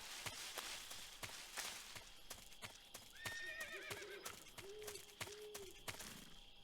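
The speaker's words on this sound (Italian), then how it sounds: "Abbiamo sentito un cavallo." A horse whinnies several times in Metal Gear Solid 3: Snake Eater, with sharp repeated clopping hoofbeats throughout. The sound is fairly faint and recorded game audio without talk.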